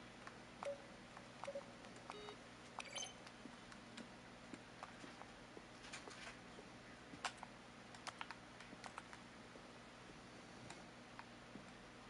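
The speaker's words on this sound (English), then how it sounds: "Each sound is a mix of a keyboard stroke and a synthesized tone." Button-press sounds from The Stanley Parable video game, each a keyboard stroke blended with a synthesized tone, click faintly and sparsely over a low steady hum, with no talking.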